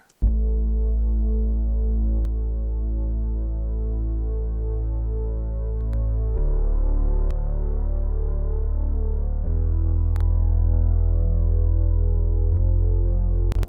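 Deep, warm bass notes held long and steady through a Tegeler VTC vari-mu tube compressor, thick and slightly saturated, changing pitch every few seconds with faint clicks between.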